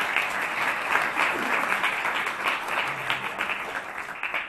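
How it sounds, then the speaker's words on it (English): Conference audience applauding two speakers at the end of a travel industry session in London, a dense, steady round of clapping that tapers slightly toward the close. "please, a round of applause for our two speakers"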